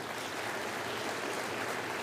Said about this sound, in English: Please give Paula a round of applause.